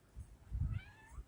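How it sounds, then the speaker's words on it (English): A house cat meows once, short and quiet, with soft low thumps around it in an indoor room. "Eureka Kitty is making her appearance"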